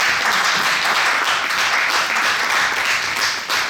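A large audience breaks into sustained, dense applause for the Caucasus ensemble at a concert, loud and steady with no break.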